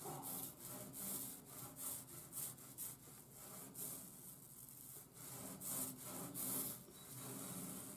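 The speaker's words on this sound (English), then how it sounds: "now we do the one light roll going into the other paint" A paint roller spreads marine enamel across an aluminum jon boat hull in quick repeated back-and-forth strokes, a soft rhythmic rubbing and swishing heard close and quiet with no talk.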